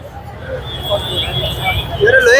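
A large festive crowd at a Gudi Padwa rally in Girgaon, a steady loud babble of many voices with street and vehicle noise behind it, and a few rising whistle-like tones near the end.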